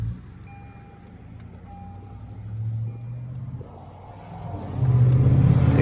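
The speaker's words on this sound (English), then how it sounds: "The exhaust sounds good." A pickup truck idling with its exhaust rumbling low and steady, nearby reversing-style beeps in the background, and the exhaust note swelling louder toward the end as the engine revs.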